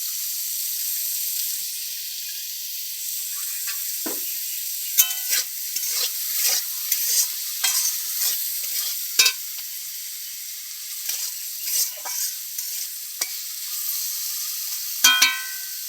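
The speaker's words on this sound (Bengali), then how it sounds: "আলুগুলো ভাজা হোক" Potatoes with salt and turmeric sizzling in a pan, a steady hiss with scattered clinks and scrapes of stirring that grow more frequent toward the end; no talking.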